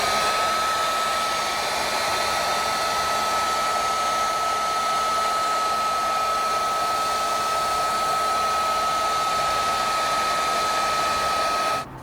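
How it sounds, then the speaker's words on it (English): A heat gun blows steadily for about twelve seconds while warming the adhesive tape on the covers of a black wood grain steering wheel trim for a 2024-2025 Toyota Tacoma, giving a loud, even whir that cuts off abruptly at the end. "also use the heat gun on both covers to warm up the tape"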